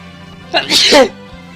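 A single loud, close sneeze bursts out over a quiet background hum.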